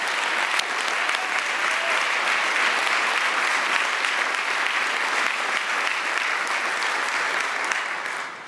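An audience applauds at a civic gathering in the Ordway Center for the Performing Arts, a steady dense wash of clapping from a large crowd that holds at full strength for several seconds before starting to taper.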